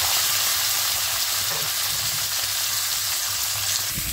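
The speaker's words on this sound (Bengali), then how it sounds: "তেলের মধ্যে আমি সবজিগুলো দিয়ে দেব।" Vegetables fry in hot oil in a wok at home, a loud, continuous close-up hiss with faint scraping stirs beneath it and no talking.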